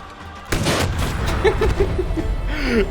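A video game bazooka shot in Far Cry 5: a sudden loud blast bursts out and rumbles on with dense, noisy gunfire-like crackle, while a voice briefly chirps over it.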